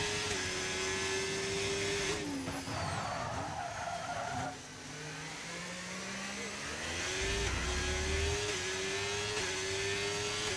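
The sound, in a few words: McLaren race car engine in a racing video game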